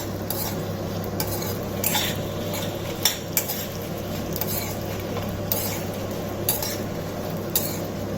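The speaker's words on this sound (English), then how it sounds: "காஞ்ச மிளகாயும் வறுபட்டுட்டு இருக்கு" Urad dal and dried red chilies roasting in a pan, with a spoon scraping and stirring in repeated strokes over a soft sizzle and occasional metallic clinks.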